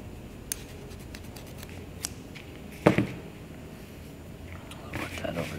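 Scissors snip through string for a children's dream catcher craft, with faint light clicks and one sharper cut partway through, close and quiet in a calm room with some soft speech and handling noise.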